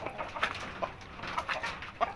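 Indio Gigante chickens clucking softly in short scattered calls over a low background hum, fairly close.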